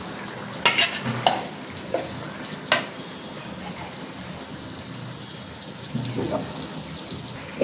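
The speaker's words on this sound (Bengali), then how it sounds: "ভাজা হয়ে হইতেছে।" Sliced pointed gourd (potol) fries in a pan with a steady, close hiss, broken by a few clicks and knocks of cookware.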